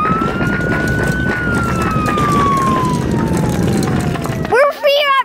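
A toy ambulance siren wails in a steady tone that slides slowly downward for several seconds, then breaks into a few quick, chirpy electronic bursts near the end.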